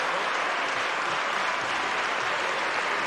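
Dense, steady applause fills the Italian Senate chamber, many hands clapping continuously and fairly loudly for a few seconds without any voices.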